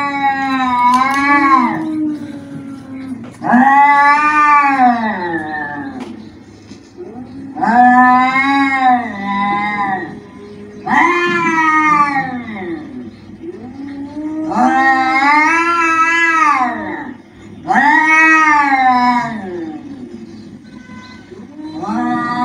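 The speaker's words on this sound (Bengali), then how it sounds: "আসলে খুঁজেই পাচ্ছে না যে বিড়ালগুলি কোথায় ডাকতেছে।" Cats indoors giving long, loud, wavering meows and caterwauls, about seven drawn-out yowls in sequence with short pauses between, close and clear, with no talking.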